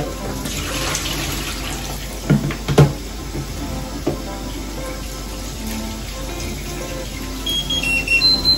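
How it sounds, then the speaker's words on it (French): Tap water runs steadily into a sink while food for salted okok is rinsed, with soft splashing, a few clunks of utensils or containers, and faint handling noises throughout. "je rince abondamment"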